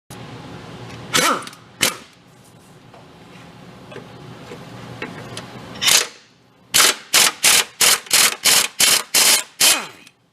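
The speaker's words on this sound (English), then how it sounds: "Let's see if we can make a slight adjustment to even get the bolt off. And grab an impact gun." Impact gun on a bolt of an abandoned plow truck, firing a few scattered hammering bursts and then a rapid string of about nine loud, evenly spaced rattling blasts close by.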